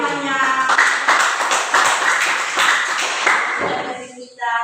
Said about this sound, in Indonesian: Tepuk tangan teman-temannya.